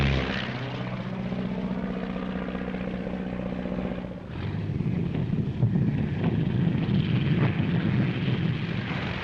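Propeller airliner from a 1947 film comes in to land: a steady, loud engine drone with tonal hum, shifting to a rougher, louder rumble partway through, continuous with no talk.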